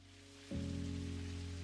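Rain falling outside in the video game Necrobarista, a faint steady hiss that grows slightly louder partway through beneath low sustained tones.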